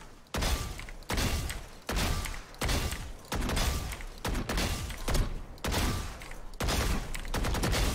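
Rapid gunfire in the Valorant video game, fired in short bursts with counter-strafing movement between them, about seven loud sharp volleys in a steady rhythm with brief pauses, no talking.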